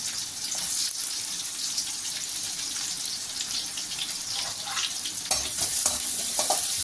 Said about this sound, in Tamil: இப்போ நம்ம நறுக்கி வச்சுருக்க வெங்காயத்தை சேர்த்துக்கலாம்